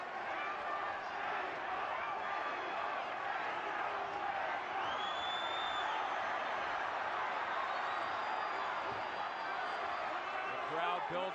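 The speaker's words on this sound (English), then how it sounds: "The crowd building support." A boxing arena crowd at the Fernando Vargas vs. Ricardo Mayorga fight roars with sustained cheering and whoops, a dense, continuous wall of noise under a commentator's voice.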